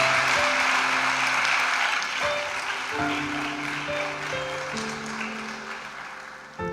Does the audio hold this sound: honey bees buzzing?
no